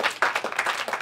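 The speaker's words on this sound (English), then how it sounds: "Clap if you've had two drinks tonight so far." Stand-up comedy club audience clapping in a brief, dense burst of applause, steady and fairly loud throughout with no voice over it.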